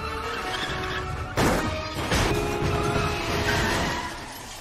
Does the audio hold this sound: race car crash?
yes